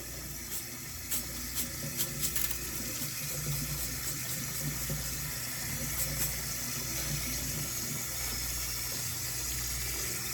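Tap water runs steadily into a sink as rice is washed in a sieve, with soft splashing and faint clicks, a continuous low wash of water with no talking.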